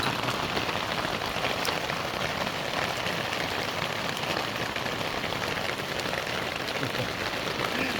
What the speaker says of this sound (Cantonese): 咁大冰，哇！嗰啲冰打到部車度啊！